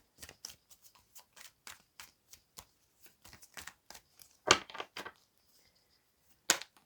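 Tarot cards being shuffled by hand, a string of crisp riffles and taps in an irregular rhythm, close and fairly quiet, with a couple of louder snaps and silent gaps between.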